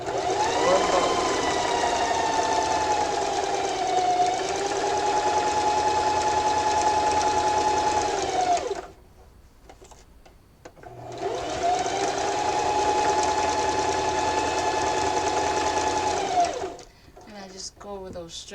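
A sewing machine stitches fabric for a drawstring backpack, running in two long, steady whirring bursts of about eight seconds each, separated by a short pause filled with faint handling clicks.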